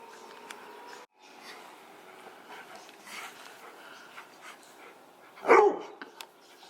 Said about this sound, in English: Don't bark at me. You have the ball.